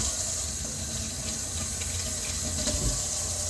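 Hot water runs steadily from a tap into a sink, a continuous splashing hiss at moderate volume with faint clinks of items being washed.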